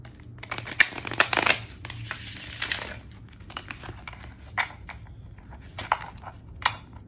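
Oracle cards are shuffled up close: crisp riffles and papery rustling, with a dense burst in the middle and lighter card taps and slides afterward.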